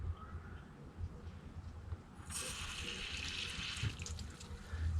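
Water rushes out of a boiler pump fitting as air is bled, starting as a low hum and then jumping into a steady hissing, splashing flow about halfway through.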